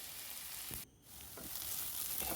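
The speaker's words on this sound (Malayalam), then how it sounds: "ഈ സവാള നന്നായിട്ട് വഴറ്റിയെടുക്കുക" Onions sautéing in oil for a beef roast, a steady close sizzle with a few soft scraping stirs and one brief lull where the frying noise drops away before returning.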